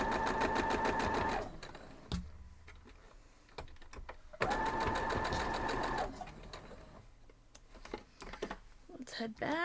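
A sewing machine stitches a seam down the side of a white quilt block, running in two steady bursts of rapid mechanical chatter separated by quieter handling sounds and speech.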